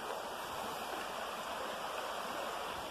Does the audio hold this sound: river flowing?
yes